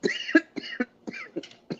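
A rapid series of short, voiced coughs, about seven bursts in quick succession, close and fairly loud.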